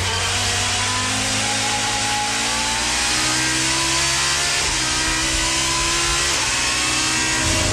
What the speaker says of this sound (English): Meanwhile, Tim Harvey's howling Volvo's challenging James Thompson.